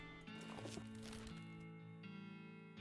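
A horse neighs and whinnies in the Western game West of Loathing, with clip-clop hoof sounds under it, a loud steady animal call that holds without pause for a few seconds.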